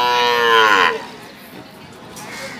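A cow at a cattle market lets out one loud, close, drawn-out moo, followed by quieter outdoor background noise.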